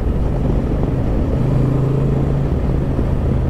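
A 2023 Honda XL750 Transalp motorcycle's engine drones steadily while riding, a close, loud continuous hum with a faint tonal rise midway, and no voices.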